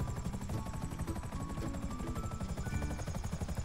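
A small video-game helicopter's rotor chops in a fast, steady rhythm, loud and close, with a constant droning engine underneath.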